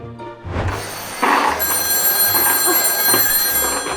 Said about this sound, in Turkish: Telefon çaldı